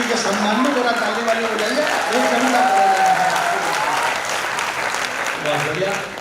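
Sustained audience applause at a Hindi kavi sammelan honoring poet Jani Bairagi, a dense steady wash of clapping from a crowd with voices mixed in throughout.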